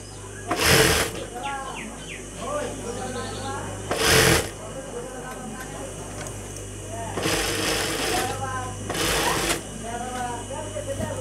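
A sewing machine stitches a salwar in short, loud bursts separated by pauses, while a person talks throughout in between and over the machine.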